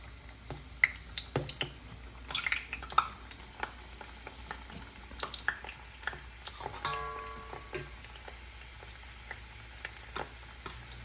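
Semolina ghughra sweet dumplings frying in hot oil, a soft bubbling sizzle broken by scattered crackles and pops, fairly quiet and close, with no talking.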